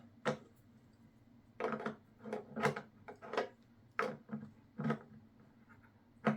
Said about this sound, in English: And then I got a 12 millimeter wrench. Just going to snug it up